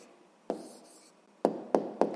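A pen writes an answer by hand on paper in a math exercise, with four short, close scratching strokes separated by quiet pauses.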